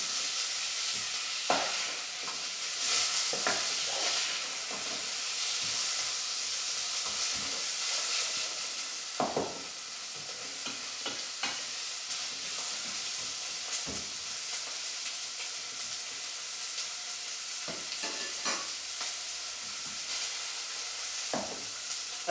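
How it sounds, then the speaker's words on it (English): Celery and onion sizzle in a pan with a steady hiss, broken now and then by scraping and clattering as they are stirred and turned. "Just now and then turn the celery and the onion"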